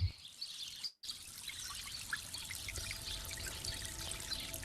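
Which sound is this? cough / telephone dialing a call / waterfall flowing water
waterfall flowing water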